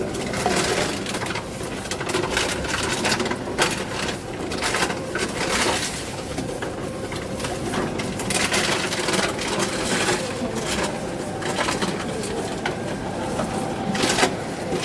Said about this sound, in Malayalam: ബോട്ടിൽ ഇതിൽ വെക്കുന്ന സമയത്ത് ഇതിനെ മൂടി ഒഴിവാക്കണം മൂടി ഒഴിവാക്കില്ല എന്നുണ്ടെങ്കിൽ അത് റിട്ടേൺ വരികയും മെഷീൻ സ്റ്റോപ്പ് ആവുകയും ചെയ്യും